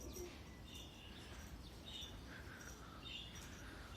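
Elvan pigeons call outdoors on a sunny day: scattered high chirps and coos, fairly faint, over a steady wash of background noise with no one talking.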